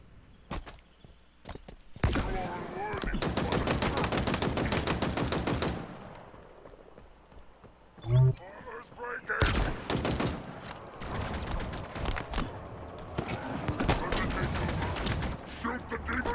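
Rapid automatic gunfire in a video game, several long bursts of fast repeated shots at close range, separated by short gaps, with scattered thuds and single impacts between the volleys.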